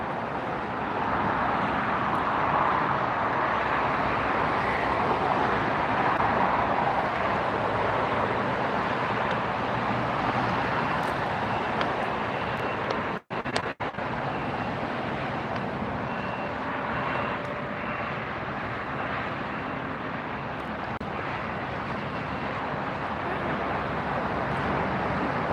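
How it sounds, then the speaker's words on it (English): An airliner arrives on the south side of LAX, a broad steady jet roar that stays loud and continuous with a brief sharp interruption midway, no voices. "this is our latest arrival on the south side"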